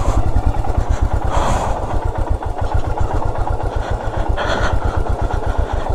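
A big motorcycle descends a rough, winding downhill road during a monsoon ride in Jharkhand, its engine thumping in a steady low rhythm, loud and close throughout with no talk.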